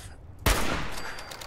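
A single sharp gunshot from the video game Fallout 4 cracks out fairly loud, followed by a short decaying tail; no talking is heard.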